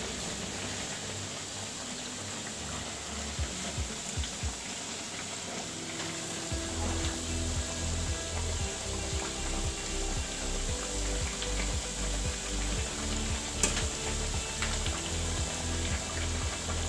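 Bhajias fry in hot oil with a steady, dense sizzle and bubbling that thickens partway through and then holds close and continuous, with no talking.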